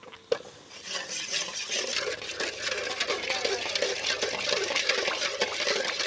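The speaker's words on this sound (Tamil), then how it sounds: "நல்லா கிண்டிகிட்டே இருக்கணும்" Sugar syrup being stirred in a pan for homemade Gems candy: a steady, continuous scraping and swishing of a utensil against the pan, close and moderately loud, with no talking.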